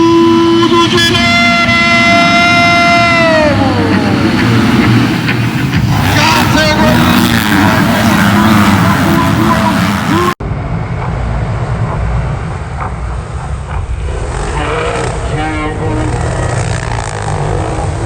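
Motocross MX2 motorcycles at a 2024 race in Bom Jesus da Lapa, Brazil, their engines revving and droning together at the start under continuous commentator speech, loud and steady.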